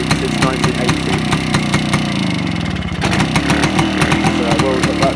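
A BSA Bantam motorcycle engine, started briefly only a few times since 1980, runs steadily at a loud, close idle with a rapid, even two-stroke-like pulsing and a brief dip near the middle.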